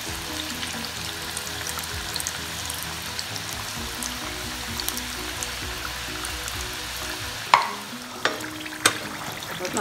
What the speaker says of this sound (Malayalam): ഇതിന് നമുക്ക് ഓയിലിലേക്ക് ഓരോന്നോരോന്നായിട്ട് ഇട്ട് കൊടുക്കാം.